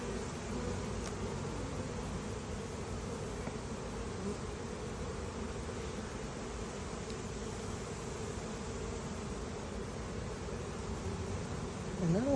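A dense, steady buzzing of many honeybees swarming close by at a hive during a nuc box installation, continuous throughout with no voices.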